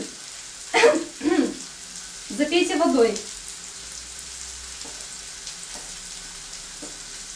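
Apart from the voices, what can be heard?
onions frying in a pan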